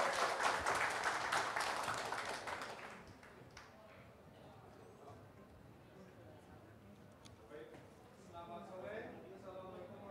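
At a cosmetics industry conference, a hall audience gives dense applause for a speaker, loud at first and then fading out within about three seconds into room murmur and a voice talking.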